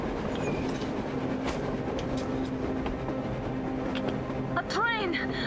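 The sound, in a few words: train passing, from the video game Metro Exodus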